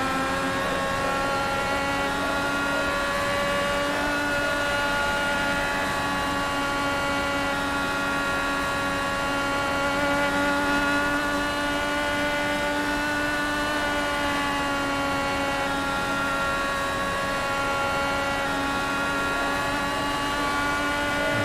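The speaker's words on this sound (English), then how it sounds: "Every so often you just hear the revs kind of spike just a little bit." An Indy series race car engine hums at steady high revs for a long stretch, the pitch wavering slightly with occasional small rev spikes, with no speech.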